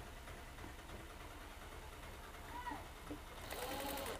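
A sewing machine stitching the edges of a bra, a steady low mechanical whir running continuously at close range and at a quiet level, with no voices.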